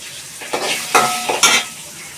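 Peanuts frying in a pan with a little turmeric hiss and sizzle up close, with a few sharp stirring scrapes of a utensil against the metal.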